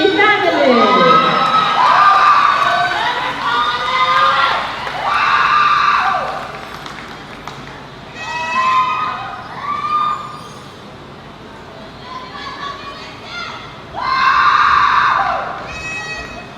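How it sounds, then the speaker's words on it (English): Graduation commencement crowd erupting in repeated bursts of shrill whoops, shouts and cheers, rising and falling in waves with quieter gaps between. "Let us give them another big round of applause"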